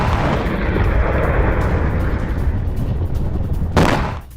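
Ballistic missiles from an Iranian attack striking a US base, a dense continuous roar of explosions and rumbling blasts that ends in one sharp crack before cutting off, with no voices.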